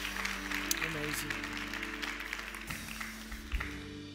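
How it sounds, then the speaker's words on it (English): A church congregation claps along during a Christmas-season sermon, a spread of soft scattered claps heard somewhat distant under sustained tonal music. "let's clap our hands and thank God for that"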